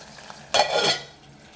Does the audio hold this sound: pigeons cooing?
no